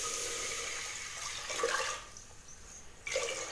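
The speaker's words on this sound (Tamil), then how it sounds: "3/4 லிட்டர் தண்ணி ஊற்றியாச்சு." Water, about three quarters of a litre, splashes into a pan of roasted moong dal in short pouring bursts, fairly soft and close, with brief pauses between.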